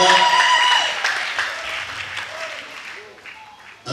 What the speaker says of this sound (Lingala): Acclamons très fort pour les rois des rois.